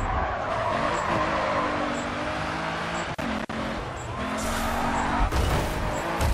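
A race car in the video game GRID 2, an Aston Martin in a World Series race, skids with squealing tyres against a steady loud engine roar, punctuated by two sharp impact thuds near the middle.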